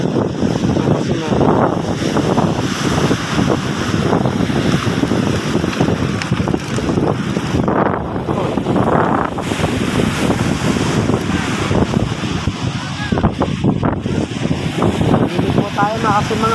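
A strong current and big waves churn under gusting wind in a waterway cluttered with floating trash, giving a constant loud rush of surf and wind buffeting the microphone.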